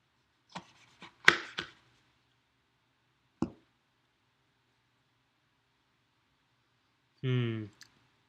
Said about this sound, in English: Give me a second to cut this thing open.